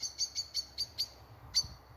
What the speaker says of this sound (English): But sometimes those birds do scare me.